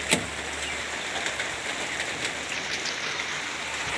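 Rain patters steadily on surfaces outdoors while pigeons are let loose to fly, a soft continuous hiss with one sharp tap near the start and no voices.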